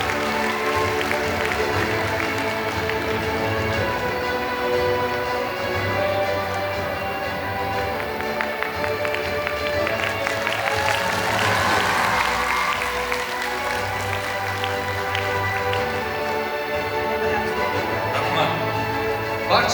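Audience applause at an International Students' Day celebration at USAT, a steady wash of clapping and crowd noise lasting throughout, with some talk and cheering mixed in.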